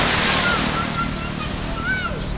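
Waves break on a wild open ocean beach at Dahican, Mati, Mindanao, a steady loud wash of surf with wind over it and a few faint high bird-like calls.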